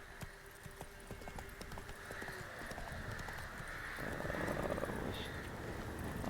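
Roach, the horse in The Witcher 3, walks with steady clip-clopping hooves, quiet and rhythmic under a dense ambient background that swells louder toward the end.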